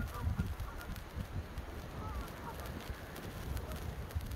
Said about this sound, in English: Something is disturbing the geese.